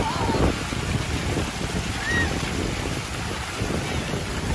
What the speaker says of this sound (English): Sorry if that water is loud.